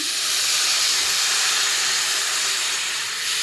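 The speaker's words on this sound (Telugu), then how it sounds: "ఇప్పుడు కొద్దిగా వాటర్ వేస్తున్నాను" Water hits a hot pan of frying meal maker (soya chunk) curry in oil, setting off a loud, steady, close sizzling hiss that holds for several seconds.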